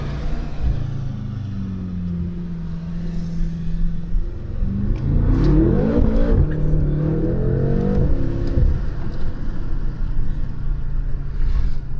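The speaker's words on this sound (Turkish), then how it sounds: "Bir hızlanalım bir bakalım burada nasıl kaçıyor." BMW M5 Competition accelerating hard and overtaking on the road, steady cabin rumble rising into a loud surging rev climb with gear changes midway, then settling back to a fast cruise drone.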